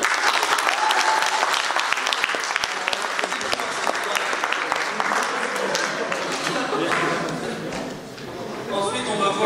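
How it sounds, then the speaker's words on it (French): An audience at a 2017 Hirson event gives sustained, dense applause for the people who came up to read, loud and steady throughout before thinning slightly near the end. "Vous pouvez encore les applaudir."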